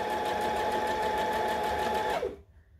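A sewing machine stitches slowly beside a zipper's teeth, a close, steady whirring hum with a fast mechanical pulse, which winds down and stops near the end, leaving near silence.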